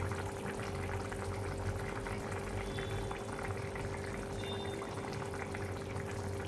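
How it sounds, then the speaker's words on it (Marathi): Spicy kharda chicken curry bubbles in a covered pot, a steady low simmering rumble with a continuous soft hiss and a faint hum, with no voices. "आता बघू शकता तुम्ही छान अशी उकळी आली आता त्याला."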